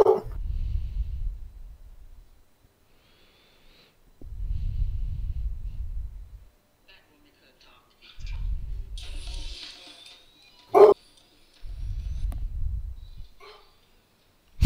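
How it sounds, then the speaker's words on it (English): A dog, heard through a phone, barks and huffs in several low bursts separated by short pauses, fairly close, with a sharp click between them and no talking. "I put it on the phone so I'm hearing her barking."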